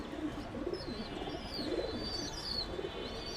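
Soft, low cooing of a Giribaz flying pigeon repeats in gentle pulses, with faint chirps higher up against a quiet outdoor background.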